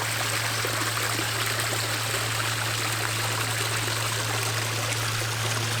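Backyard pond waterfall spills water in a steady, continuous rushing trickle, close and even, with a low constant hum beneath and no voices.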